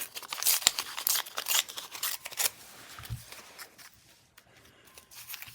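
Scissors snip through a book page in a rapid series of crisp, close cuts that fade into softer rustling and quiet handling of the paper.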